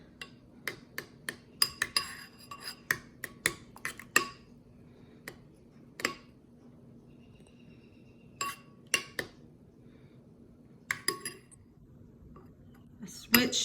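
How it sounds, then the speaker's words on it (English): A spoon stirring egg yolks in a bowl gives a run of sharp, close clinks against the bowl in an uneven rhythm, with pauses and quieter stretches between bursts. "So to our yolks, we're just gonna stir."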